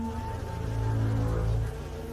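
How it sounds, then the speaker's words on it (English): Hornet buzzing near a honeybee colony in a Chinese forest, a steady low droning hum holding close and fairly loud throughout, swelling slightly in the middle, with no talk. "The hornet."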